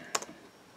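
A couple of quick, faint keystrokes on a computer keyboard, two soft clicks close together, then quiet.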